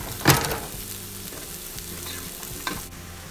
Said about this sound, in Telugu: ఆనియన్ డీప్ ఫ్రై అయిపోయింది